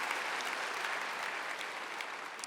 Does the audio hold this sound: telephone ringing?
no